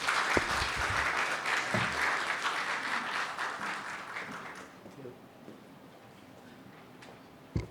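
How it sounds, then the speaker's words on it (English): A conference audience applauds a speaker being welcomed to the stage: fairly loud clapping at first that thins and fades away, leaving a quiet room with a few scattered sounds near the end. "warm round of applause"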